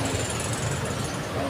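A Makita mini drill with a wiring problem runs with a steady, loud buzzing whir throughout, close by, with a voice speaking over it.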